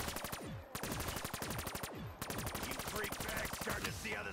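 Rapid automatic fire from an upgraded gun in Black Ops 3 Zombies rattles in long, loud bursts with a short pause between them, followed by scattered zombie-game effects.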